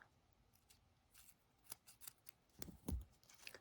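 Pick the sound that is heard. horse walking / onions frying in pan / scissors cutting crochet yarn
scissors cutting crochet yarn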